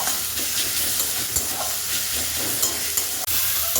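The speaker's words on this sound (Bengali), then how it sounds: "দেখুন মশলাটা কষে গেছে আর কত সুন্দর থেকে তেল ছেড়ে দিয়েছে" Spice masala with chili powder frying in oil and being stirred, ahead of a lote fish curry: a constant loud, close sizzle with intermittent spatula scrapes and small knocks, no voices.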